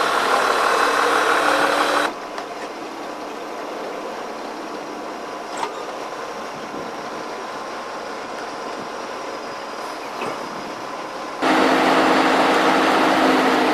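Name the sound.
hemp decorticator machine engine running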